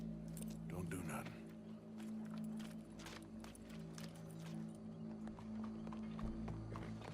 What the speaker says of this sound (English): Go brush that horse, officer.